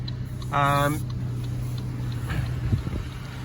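Saab 9-3 2.0i S automatic, a 1998 petrol car, idles with a steady low engine hum throughout, briefly covered by a louder tonal burst near the start, with faint background noise and no talk over it.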